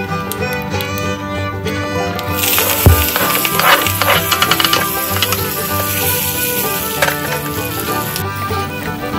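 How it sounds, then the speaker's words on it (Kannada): A pan of tempering with mustard seeds and garlic sizzles. A softer start bursts into loud, close, crackling frying that keeps spitting and popping steadily. "ಈ ಒಗ್ಗರಣೆಯಲ್ಲಿ ಒಂದು ಸ್ವಲ್ಪ ಬೆಳ್ಳುಳ್ಳಿ ಹಾಕ್ಕೊಳ್ಳಿ"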